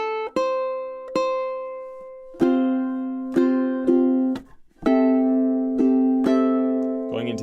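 Ukulele playing a short pre-chorus passage, with clear plucked notes and chords struck at an uneven pace, each ringing and decaying, ending in a quick strum, solo and close.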